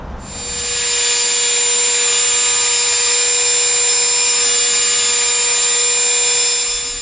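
A high-pitched power tool whines steadily as it routs a round-over on the edge of a 1.5 inch standoff on a cruising catamaran, close and loud, spinning up at the start and running alone.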